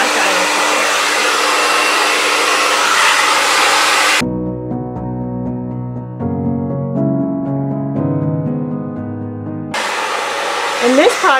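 Revlon One-Step hair dryer and volumizer fitted with a diffuser, drying curly hair on a fast setting: a loud, steady broadband blowing roar that cuts out for a few seconds, during which tonal sounds play, then the blowing roars back.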